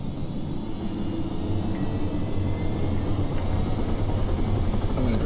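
A helicopter in the Arma video game idles nearby with a steady, heavy rotor and engine rumble, loud and continuous throughout without talk.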